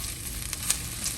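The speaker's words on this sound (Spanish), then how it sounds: "Vamos a dejar que se empiece a freír." A pork chop sizzles steadily in a hot frying pan, a continuous close crackle with a few brief pops and no talking.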